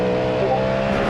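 Cadillac GTP race car engine in the iRacing sim, a loud steady droning whine held at high revs throughout, alone with no voice over it.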